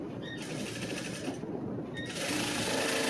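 Sewing machine stitching a cross-cut blouse front panel, a quiet continuous rapid needle chatter running through the whole stretch and getting slightly louder near the end.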